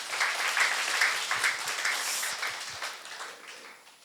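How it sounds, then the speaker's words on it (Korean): An audience at a family healing counseling seminar gives a warm round of applause, a dense patter of many hands that swells briefly and then gradually fades. "박수 한번 보내주시고요."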